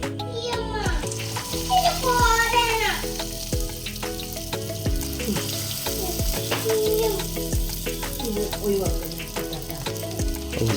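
Dough balls fry in oil, a strong steady sizzle with stirring clatter, heard close beneath overlapping voices of children and adults talking.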